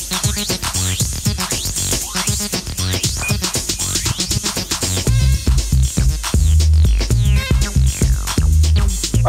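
Acid electronic music track played from a vinyl record: loud, squelchy repeating synth line over a pulsing beat, with a heavier bass-driven section kicking in halfway through and no voices.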